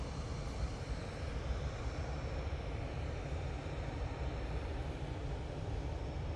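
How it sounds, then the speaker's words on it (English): An Emirates airliner approaching Manchester Airport, its steady broadband jet roar sustained and fairly loud throughout, with no talk over it. "Emirates is making its way over towards us."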